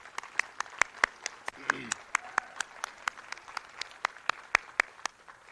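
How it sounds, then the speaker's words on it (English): Sparse applause at a school board meeting, with a few hands clapping in a steady, evenly spaced rhythm and a brief voice murmuring partway through. "I'd like one more applause for that effort"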